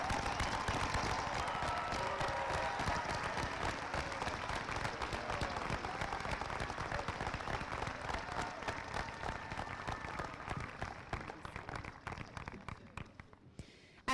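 Crowd applause at a high school graduation ceremony honoring students enlisting in the military, sustained dense clapping from a large audience that rolls on loudly and then thins and fades toward the end.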